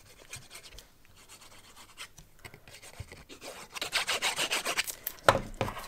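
Lime-colored cardstock rubbed down onto a Halloween pull-out gift box, soft dry scratching strokes that start faint and grow into louder, quicker rubbing near the end.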